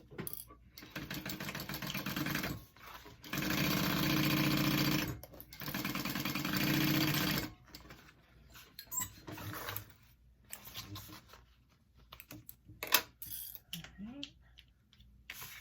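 Sewing machine stitching handbag pieces in loud rapid bursts, two long runs then stopping, followed by quieter handling clicks and rustles close by.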